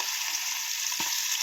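Chicken liver pieces for chicken 65 frying in hot oil, a steady close hiss of sizzling with a sharp spatter pop about two-thirds of the way through.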